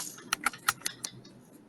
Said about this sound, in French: son clavier, il est tarpin fort